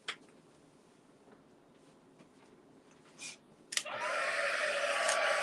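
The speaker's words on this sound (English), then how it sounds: "And I'm going to come in with my heat tool." A craft heat tool blowing on a handmade card switches on after a few faint taps and clicks, then roars as a steady, loud, close rush of hot air.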